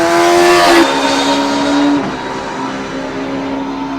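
A Bimota Tesi H2 motorcycle fitted with an accessory Arrow exhaust tuned to sound like a carbureted bike gives a loud, steady engine drone. Its pitch steps down and then holds, with no voices over it.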